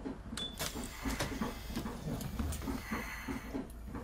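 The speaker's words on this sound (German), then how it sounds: "Da hat man gerade dieses Türpiepen gehört von hinten." A bus door warning tone in the OMSI 2 bus simulator, on an ASEAG Aachen KOM 180 city bus, beeps in a steady rhythmic series of short pulses under ongoing cabin noise.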